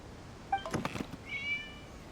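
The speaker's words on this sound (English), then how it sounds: "It was just a cat." A cat meows in the Genshin Impact video game, first with a short call and then a longer, tonal meow, after a brief cluster of soft knocks, against a quiet backdrop.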